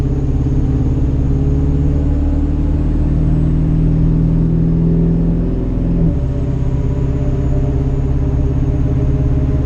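Steady droning hum of mud-terrain tires at speed, loud and continuous, with a low rumble that swells slightly before settling.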